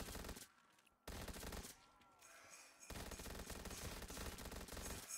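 Rapid automatic gunfire from Black Ops 3 Zombies on a Christmas-themed Highrise map, loud and dense bursts nearly throughout, with brief gaps and a softer stretch in the middle.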